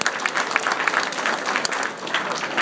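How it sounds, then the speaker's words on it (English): Audience at a NASA demonstration giving a volunteer a round of applause, steady dense clapping from many people, fairly close and lively for a couple of seconds. "give her a big round of applause to help us out"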